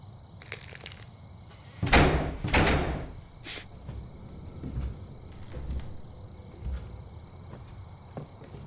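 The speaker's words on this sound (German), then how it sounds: "Was für eine Tür ist da gerade zugegangen?" In the horror game The Cursed Forest, a door swings shut with a couple of loud heavy thuds and a creaking clatter, followed by quieter footsteps and knocks over faint ambient sound.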